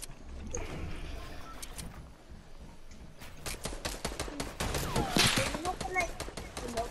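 Gunfire from bolt-action and semi-auto weapons in the Fortnite video game, rapid clustered shots and bursts crackling in the second half under overlapping talk.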